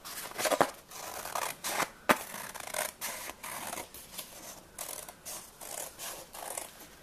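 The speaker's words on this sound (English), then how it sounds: "I'm just going to cut the rim off of my plate so I can get that in my punch." Scissors snip steadily around the rim of a cheap paper plate, a close run of crisp cuts and rustling paper with irregular pauses between strokes.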